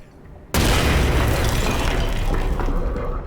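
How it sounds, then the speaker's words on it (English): A grenade detonates in a survival horror video game: a sudden loud boom bursts in after a quiet moment, then holds as a dense roaring, crackling rumble of debris that slowly tapers off. "The explosion it puts out is enough to destroy multiple doors."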